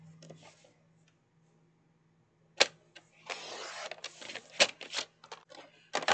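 Scrap paper is cut to size with short crisp slicing and shuffling noises in scattered bursts after a quiet stretch, with a faint low hum underneath.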